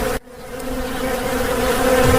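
A swarm of bees buzzing in a Hindi cartoon story after an old woman opens a sack they cover her. After a brief silent gap at the start, a dense, steady buzz fills the rest, close and loud, with no talk.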